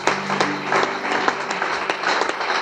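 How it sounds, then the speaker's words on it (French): A church congregation gives lively applause with scattered sharp claps and some cheering, fairly close and continuous throughout, with no clear speech. "Est-ce que vous pouvez vous encourager avec des acclamations?"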